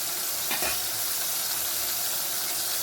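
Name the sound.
tomatoes sautéing in a pan for bitter gourd curry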